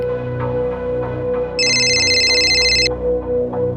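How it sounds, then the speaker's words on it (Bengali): An electronic telephone ring sounds for about a second over a sustained musical tone and low background rumble. "আরে প্রতিভা, কাবেরী, পুনে থেকে ফোন এসেছে।"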